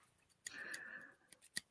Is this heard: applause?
no